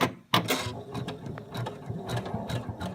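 An embroidery machine stitches fabric for a pony's mane with a steady, close mechanical whirr and rapid needle clatter. A sharp thump near the start is followed by continuous rhythmic ticking.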